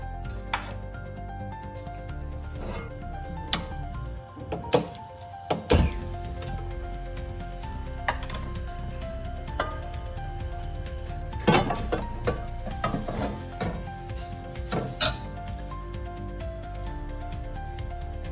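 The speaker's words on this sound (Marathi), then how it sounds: "आता आपण गॅस पेटवून घेऊया आणि तवा मांडून घेऊया" A gas stove is lit and a metal tava griddle is set on the burner, making scattered close clanks, knocks and metallic clinks over a low background hum, with no talking.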